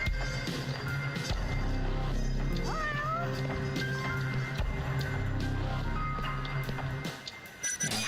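A cat meows in the Judgment video game, short rising cries near 3 seconds rising above dense background music and city ambience, with no talking.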